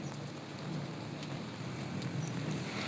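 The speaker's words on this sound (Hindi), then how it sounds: "तो ये बारिश का कुछ ऐसा माहौल था, बहुत ही अच्छा लग रहा था देख के।" Monsoon rain falls outside a building, a steady, moderately faint hiss of rainfall with soft drip ticks and no clear voices.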